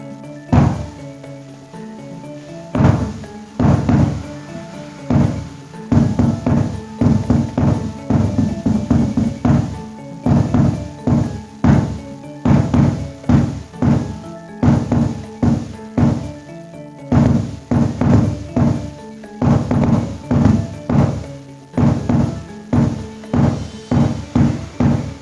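A carved Jepara hadroh frame drum with a white skin is struck repeatedly in a steady rhythm, giving deep, booming bass thumps close to the microphone.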